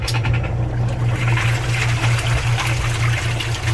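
A Kenmore 80 Series washing machine pumps out water: a steady mechanical pumping hum with water gushing and draining underneath, continuous and fairly loud, no voices.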